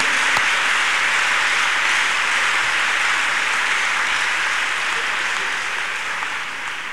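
A church congregation clapping their hands in worship, a dense, continuous wash of clapping that holds steady and eases off slightly toward the end, with no talk over it.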